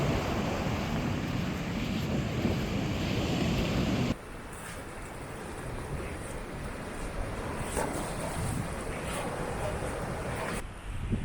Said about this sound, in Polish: Wielkie fale, wspaniale wygląda to wybrzeże